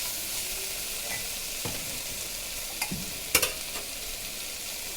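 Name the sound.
kidney beans (rajma) frying and being stirred in pan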